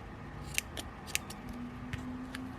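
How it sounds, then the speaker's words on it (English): Scissors cut through crochet yarn strands, two at a time, while making a hooded crochet poncho: several crisp, quick snips at irregular intervals over a low, steady background hiss. "then cut all the strands along the bottom"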